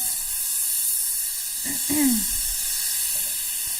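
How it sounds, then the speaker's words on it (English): Steady hiss of water sizzling in a hot Saladmaster skillet, with a brief clatter and a faint voiced sound partway through. "if it's hot enough and you can hear it sizzle, it's just perfect."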